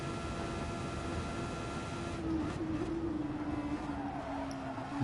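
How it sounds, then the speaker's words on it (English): Race car engine at an FIA Nations Day motorsport event, a steady mid-pitched drone with a slight wavering rise partway through, held continuously at moderate distance without talk. "Still revving the car out."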